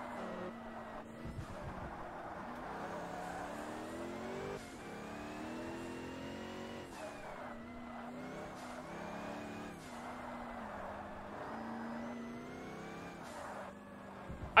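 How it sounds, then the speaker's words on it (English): A Forza Motorsport race car engine, turbocharged with a supercharger whine, revs hard. The engine note climbs and drops repeatedly through gear changes, with a tonal whine riding on top and a sharp burst at the very end. "it sounds turbocharged, the fact that it's going choo choo, but it also sounds supercharged as well because it's got the supercharger whine"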